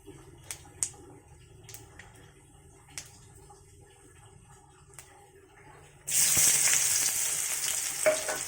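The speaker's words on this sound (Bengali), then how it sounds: "পেঁয়াজ দিয়ে দিলাম। পেঁয়াজটাকে একটু নাড়াচাড়া করবো।" Chopped onions dropping into a pan for a spicy fish curry after several light clinks and taps, then bursting into a loud steady sizzle for the last couple of seconds, close by with no talking.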